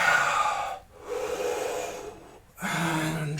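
Deep breaths drawn in and out during a yoga session: two long, airy inhalations and exhalations separated by brief pauses, close and clear with no talking.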